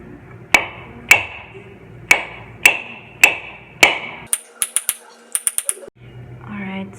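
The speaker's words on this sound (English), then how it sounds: "just go around the coconut with the hammer" A hammer strikes a coconut in six sharp, evenly spaced knocks about half a second apart, followed by a quicker burst of lighter taps as the shell cracks. A faint voice can be heard at the end.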